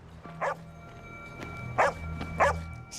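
A female dog barks three times, short separate woofs at close range over a quiet background hum.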